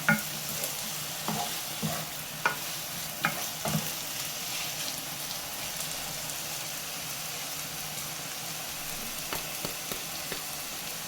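Palak paneer curry being stirred in a pan after a pinch of sugar goes in, a soft continuous sizzle with spoon scrapes and taps against the pan, busier at the start and again near the end.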